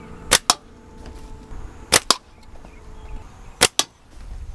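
Three separate pairs of sharp, snappy shots ring out one by one at spaced intervals, close and loud against a quiet background with a faint hum between them.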